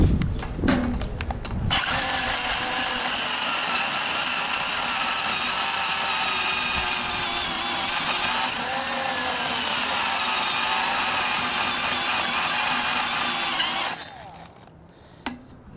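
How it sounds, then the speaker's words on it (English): A battery drill bores into tough steel for a drift trike's rear end, a loud, sustained high-pitched grinding whine for about twelve seconds, close by, then stopping abruptly. "trying to drill this thing"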